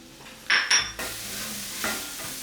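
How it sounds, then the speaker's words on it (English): Red wine hits a pan of shallots and garlic to deglaze it, giving a sudden loud hiss after two quick clanks, then a steady sizzle with a scrape of stirring. "I'm going to add the red wine and cook it down."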